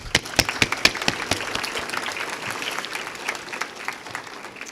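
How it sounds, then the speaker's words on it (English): An audience at a community college event breaks into a round of applause, beginning with a few sharp, distinct claps up close that swell into dense, sustained clapping from the crowd. "Could you all please help me in giving these people a round of applause?"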